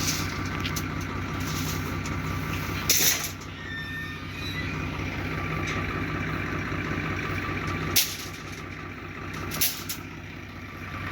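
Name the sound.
tractor engine arriving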